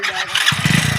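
A motorcycle engine catches partway through and settles into a throaty, rhythmic putter close by, after a brief rougher cranking sound.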